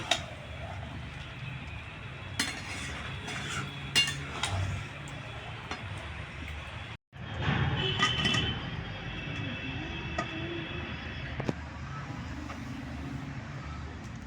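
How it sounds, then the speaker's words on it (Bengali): Fried potatoes are stirred into chicken in a pan, with steady metallic scraping and scattered clinks of the utensil against the pan running close and fairly loud throughout, broken by one brief gap. "আলুগুলো দিয়ে দেবো দিয়ে ভালো করে কষিয়ে নেবো"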